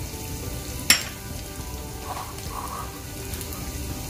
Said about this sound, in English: you're gonna melt the cheese, and then you'll slowly increase the fire